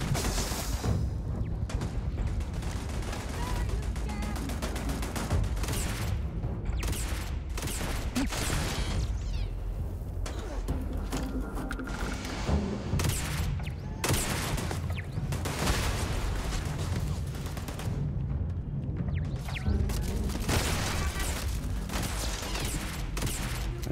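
Turret gunfire in the video game Starfield, a steady roar of overlapping shots and booming blasts that stays loud through the stretch, with brief bursts standing out and no talk over it.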